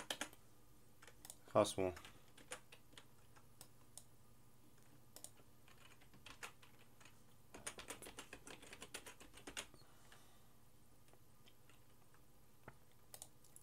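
Computer keyboard keys clicking as a username and password are typed, faint and close in a quiet room, with a burst of rapid keystrokes early and scattered clusters of clicks later, and a brief spoken word.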